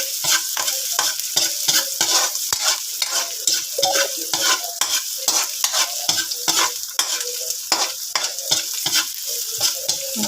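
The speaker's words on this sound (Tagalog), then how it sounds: "Igisa lang natin guys ng bahagya ang ating sibuyas at bawang hanggang sa mag-aromatic." Onion and garlic sauté in a pan for squid adobo, a dense, close sizzle broken by rapid repeated stirring scrapes throughout, with no talk.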